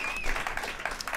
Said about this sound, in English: I think we all should give Britt Hysen a huge round of applause